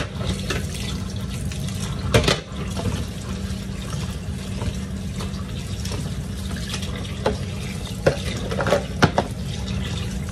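Water runs steadily from a kitchen faucet, a continuous close splashing stream with a few louder splashes and clatters, no one speaking.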